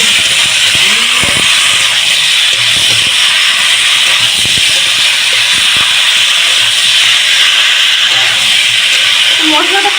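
Pumpkin and potato pieces fry in a spice masala for a prawn curry, giving a loud, steady sizzling hiss that fills the whole stretch with faint clatter underneath.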